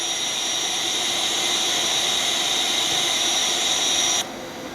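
Boeing 737-800 jet engine starting in the X-Plane 11 simulator, a steady loud whine and roar with a high tonal edge that drops abruptly in level near the end.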